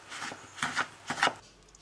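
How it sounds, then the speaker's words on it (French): Pieces of butter are worked into flour in a bowl for brioche dough, making three close, dry rubbing and scraping bursts with short pauses between them, no voices. "Je veux mélanger jusqu'à liaison"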